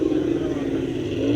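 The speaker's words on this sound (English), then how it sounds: "Lancia Stratos making a lot of noise there." Lancia Stratos engine at a classic car show, a loud, steady, throaty drone running the whole moment, with a broad low rumble close by.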